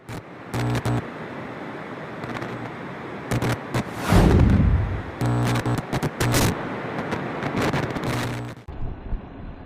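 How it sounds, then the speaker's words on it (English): Strong gusts of wind buffet the microphone in loud, rumbling bursts during an e-bike ride down a hill in the UK, rising and dropping unevenly, with no one speaking. "Windy again today"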